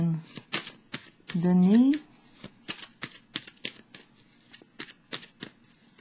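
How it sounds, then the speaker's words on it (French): A tarot card is drawn from a deck in a run of quick, crisp card flicks and shuffles near the microphone, with a brief spoken word partway through. "Je vais piger une carte ici du Béline."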